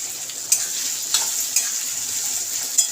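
Onions fry briefly in a hot pan for chilli chicken, giving a steady high sizzle with a few sharp clicks of a spatula stirring at intervals.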